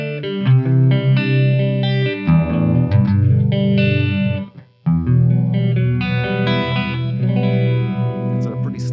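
Sustained electric guitar chords through a Chase Bliss Wombtone phaser pedal set to a slow rate ring out with a sweeping swirl that rises and falls, loud and close, with a brief gap before the chords resume.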